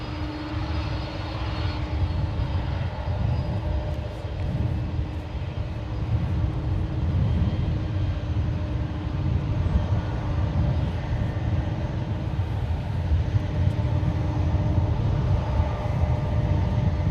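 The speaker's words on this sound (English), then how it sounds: "we have Delta Airlines Flight 356 lining up for departure to New York" Delta Airlines Boeing 767-300ER, a 32-year-old twin-engine jet, lining up for departure at San Francisco International Airport; a steady, continuous engine roar and whine holds at moderate distance throughout, with low rumble and no talk.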